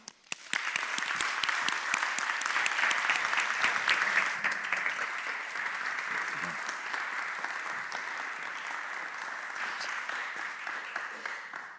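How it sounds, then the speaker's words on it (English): Sustained applause from an audience at the Cambridge Union, dense and even, starting abruptly and holding steady for over ten seconds. "if we could please have a round of applause for Manuel Hassassian."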